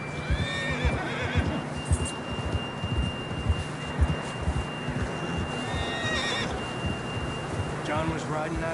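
Horse in the PS4 game Red Dead Redemption 2 whinnying several times over steady clip-clop of hooves while riding, with a faint tonal hum in the background and voices speaking.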